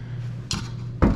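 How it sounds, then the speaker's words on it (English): A dishwasher door swinging open and knocking against an adjacent kitchen cabinet, two short hard knocks about half a second apart over a steady low appliance hum. "See that door hits that cabinet?"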